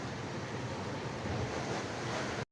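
Sea waves at a beach on an island in Bolinao, Pangasinan make a constant, full rushing wash mixed with wind buffeting the microphone, steady throughout before cutting off abruptly.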